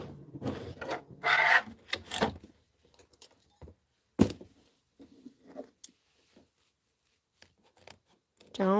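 Quilt block fabric with batting being trimmed for a snowman-themed pillow; a series of short, close rasping cuts comes in uneven bursts, with a brief voice sound near the start and end.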